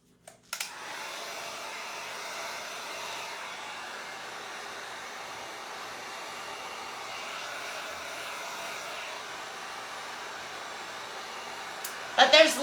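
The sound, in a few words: heat gun blowing hot air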